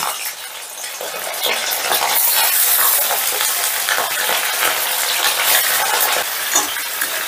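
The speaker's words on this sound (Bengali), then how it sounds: "এবারে চিকেনগুলো ভেজে নেব" Chicken pieces frying in a generous amount of oil in a kadai over a medium flame, a loud continuous crackling sizzle with spitting bursts and occasional scrapes of stirring.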